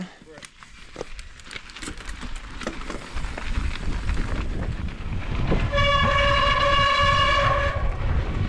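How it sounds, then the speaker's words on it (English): A loud, sustained high-pitched mountain bike brake squeal with layered harmonic tones rises over rumbling mechanical noise and clatter on a trail at Copper Mountain, lasting several seconds near the end. "I hope you like that sweet brake squeal intro."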